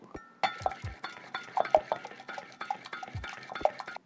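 A hand-turned whisk on a meat chopper gadget, rapid metallic clinks and rattles in an uneven rhythm, close and fairly loud, no talk.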